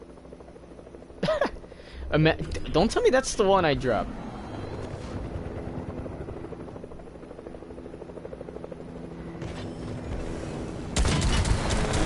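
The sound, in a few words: helicopter flying in a video game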